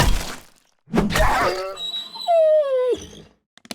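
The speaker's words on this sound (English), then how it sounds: "No, it's a dog." A dog in the 7 Days to Die video game (Alpha 20, desert area) gives a loud, drawn-out whining howl that slides downward in pitch, preceded by brief rough bursts and a voice talking.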